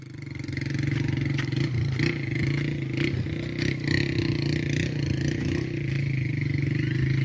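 A motorcycle engine drones steadily and close for the whole stretch, a constant low hum with slight revving, on a rural community road after a strong windstorm.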